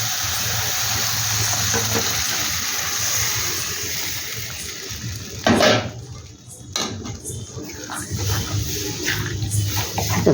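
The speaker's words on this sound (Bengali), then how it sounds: "ডাল চালের গুঁড়ো বেশ সুন্দর করে নাড়তে হবে কিন্তু এটাকে" Ash gourd cooked with ground lentil and rice flour is stirred in a pan, with a steady sizzle of frying and the scrape and clink of a spoon against the pan, and someone talks over it.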